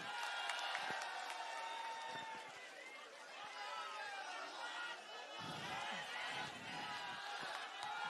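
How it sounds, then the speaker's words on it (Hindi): A large crowd at a political rally at Jantar Mantar, New Delhi, claps and cheers with scattered shouts, a dense, lively roar that continues throughout, fairly distant. "जोरदार तालियां हो जाए संजय सिंह जी के लिए"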